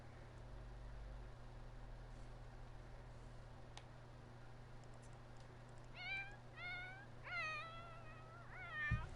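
A cat in The Sims 4 gives a series of short, clear meows near the end, several rising calls in quick succession over a steady low hum and faint background noise.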